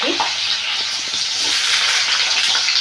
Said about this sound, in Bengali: এইবারে আমি আলুগুলোকে দিয়ে দিচ্ছি